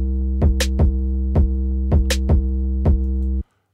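A sampled drum pattern made in FL Studio plays at full speed, with a sustained low tone under sharp, evenly spaced hits and two bright cymbal-like accents. It is loud and stops abruptly.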